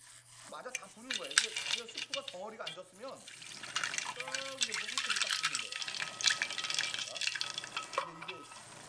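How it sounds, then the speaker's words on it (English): Ice cubes and cold water are added to instant ramen broth in a bowl, giving clinks, stirring and pouring splashes under a person talking over the sounds. "Add about 10 ice cubes and a splash of water to dissolve the powder first, then pour in 8 ounces of cold water."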